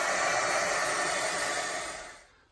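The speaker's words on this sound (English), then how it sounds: "just give that a quick dry, a quick blast with a heat gun" A heat gun blasts hot air to dry paint on an art journal page, a loud steady close-up roar of rushing air that fades out at the end, with no speech.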